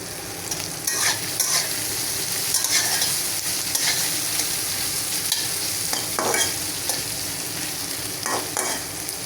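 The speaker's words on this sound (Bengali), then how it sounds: "শুটকিগুলো ভাজা শেষ, এখন তুলে নেব।" Dried fish (shutki) fries in oil in a pan, giving a loud, continuous sizzle broken up by repeated scraping stirs of a spatula across the pan, with no voices.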